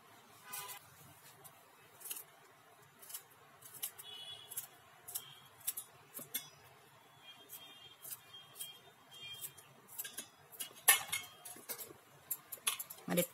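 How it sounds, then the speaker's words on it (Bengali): Green chillies being chopped, with sharp, irregular knife taps close by that speed up into quicker clusters toward the end. "দুটো কাঁচা লঙ্কা কুচিয়ে দেবো আমি"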